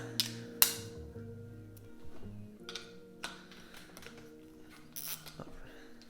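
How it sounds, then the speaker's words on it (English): A ratchet with a 15mm socket loosens the top bolt on a Fox 36 mountain bike fork lower during a service, giving a few close, quiet mechanical clicks and taps spread across a short stretch. "Use a ratchet to remove that."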